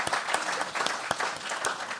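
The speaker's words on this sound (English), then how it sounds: "Yes, an applause is a very good idea." Applause breaks out at a talk on architecture as two founding partners of an architecture firm come forward, a steady patter of hand claps from a sizeable audience with a few sharper claps standing out, brief and fairly close.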